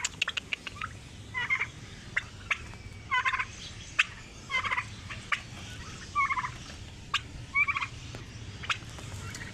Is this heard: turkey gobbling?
yes